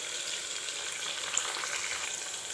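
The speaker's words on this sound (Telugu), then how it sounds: "ఇప్పుడు పచ్చిమిర్చి అయితే కొద్దిగా వేగాలండి." Green chillies fry in hot oil with mustard seeds and curry leaves, giving a steady, close sizzle that runs unbroken with no talk.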